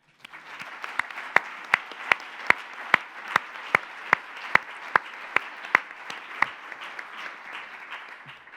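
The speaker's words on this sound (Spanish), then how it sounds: "yo les voy a pedir un aplauso" A lecture audience applauding steadily for several seconds, broad clapping with a few sharp, louder claps standing out in a regular rhythm.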